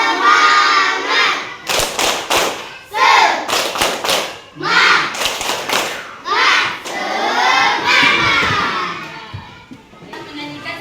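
A fourth-grade elementary classroom of children performs the rhythmic tepuk semangat spirit clap, with bursts of sharp patterned claps alternating with shouted chanting voices and a teacher speaking between rounds.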